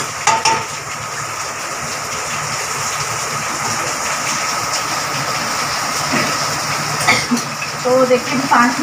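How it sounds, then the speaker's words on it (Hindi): Masala for mutton keema fries in a pan with a loud, constant sizzle, broken by scraping stirs and a few utensil knocks toward the end. "5 मिनट हो गया मेरा कीमा भून के, ये मसाला भून के"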